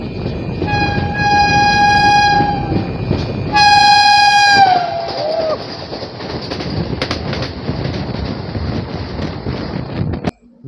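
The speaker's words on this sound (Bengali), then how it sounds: "ট্রেন কিন্তু অলমোস্ট চলে আসছে, স্যাফরন বন্দে ভারত এক্সপ্রেস" The saffron Vande Bharat Express approaches with a loud, long horn that comes in two blasts. A steady rumble of wheels on rail runs beneath it, and a brief squeal comes near the end.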